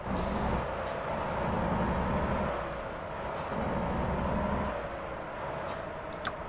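A Mack Anthem truck engine in American Truck Simulator rumbles deep and steady, its low drone rising and falling slightly with the throttle, with faint mechanical clicks on top.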